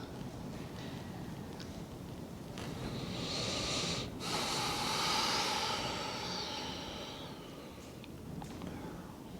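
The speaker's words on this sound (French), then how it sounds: "On va prendre encore 2 respirations dans cette posture." Deep, slow breathing in a yoga posture during an hour-long winter yoga class, a soft airy rush that swells and fades over several seconds against a steady background hiss, with no talking.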